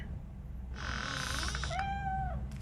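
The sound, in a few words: cat meowing in RoboCop: Rogue City video game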